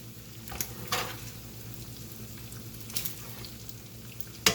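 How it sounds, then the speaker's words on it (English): Ground meat for spaghetti sauce sizzles and crackles in a hot pan, a faint steady frying hiss with a few brief louder spits and stirring clatters, no talking. "I'm just gonna take my meat and just throw it in here"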